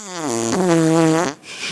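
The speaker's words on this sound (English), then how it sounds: "a crew member lets out an unexpected fart, completely breaking both actresses on camera" A crew member on a film set lets out a long, loud, drawn-out fart with a wavering pitch lasting over a second, then the sound stops abruptly and there is a brief quieter pause.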